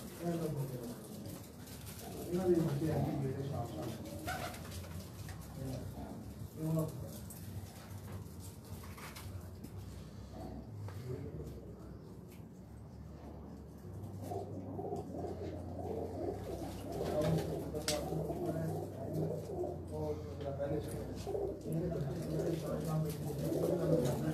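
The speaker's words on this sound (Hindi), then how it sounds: "ये हैं जो उनके जोड़ों वाले कबूतर।" Paired breeder pigeons in cages give low, steady cooing that runs through the whole stretch, moderately close, with some faint background voices mixed in.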